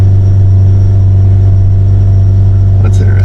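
A car engine idles with a steady low rumble before a brief throttle blip near the end raises the revs, close and loud throughout.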